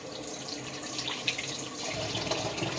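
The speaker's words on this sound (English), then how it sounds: "Do be careful to wash it." Tap water runs steadily into a sink while a sharpening hone is rinsed clean of slurry, a continuous close splashing hiss with no talk over it.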